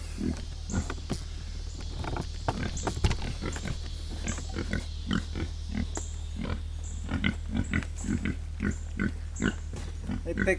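Pigs grunting repeatedly in a muddy, rain-soaked farm pen at feeding time, short irregular grunts close by over a steady low hum.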